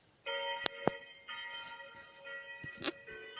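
A church bell in a video game rings with a sustained, tonal hum and layered overtones, joined by a second bell partway through, with a few sharp clicks between strikes.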